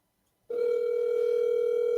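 A steady telephone ringback tone sounds after a half-second of silence, ringing continuously and loud while a call is placed, with no talking.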